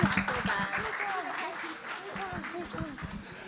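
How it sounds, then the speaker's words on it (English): Audience applause at a youth forum, a moderate wash of clapping with voices and chatter mixed in over it, fading slightly toward the end. "Yes, please clap them."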